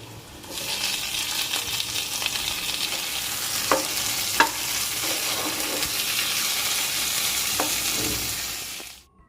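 Chopped tomato dropped onto onions browning in a pan, a sustained bright sizzle swelling as it goes in, with a few distinct spatula clinks and scrapes, then the sound cuts off abruptly.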